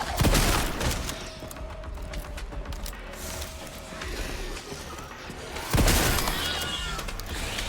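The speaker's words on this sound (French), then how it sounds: "Va falloir sortir le pompe. Ouais, je sors le pompe." A pump shotgun fires in the Resident Evil Requiem video game, loud blasts near the start and again near the end over a busy, noisy game soundscape.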